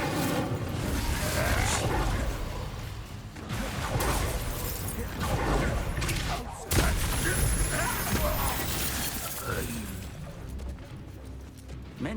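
Expelliarmus and Incendio spells cast in Hogwarts Legacy, dense crackling blasts and bursts over continuous loud game noise, with a sharp impact near the middle and steady rumbling throughout.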